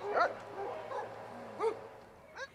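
Shelter dogs whimper and give short high yips and barks, a few close, plaintive cries in quick succession, with no talking heard.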